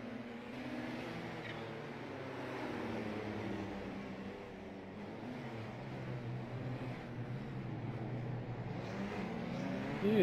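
Race car engine in an iRacing historic race, a continuous droning roar with shifting pitch as cars run the circuit, steady and moderately loud with no talking.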